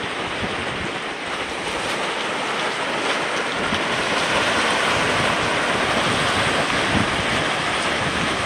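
Ocean waves wash steadily onto the shore at Gould's Inlet Beach on Saint Simons Island, a loud continuous surf roar with some wind rumble and no voices.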